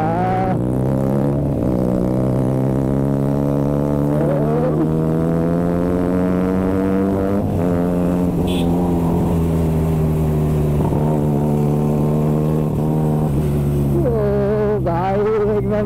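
A superbike fitted with an SC Project Growler exhaust revs loudly and continuously, its deep harmonic engine note rising and falling through repeated throttle blips, close and dominant throughout.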